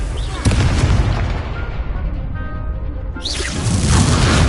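A Confringo blasting spell in a Harry Potter video game goes off with a sharp, loud burst near the start. Booming rumble and a second surge follow, with faint speech mixed in.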